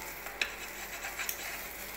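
An egg cooks in a pan with a quiet, steady sizzling hiss, broken by a couple of faint utensil taps.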